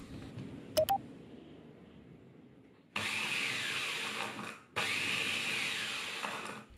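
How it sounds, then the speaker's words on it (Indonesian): An electric food chopper grinds granulated sugar in two loud, buzzing bursts separated by a brief pause, preceded by a couple of short electronic beeps in a quiet room. "Aku haluskan pakai chopper."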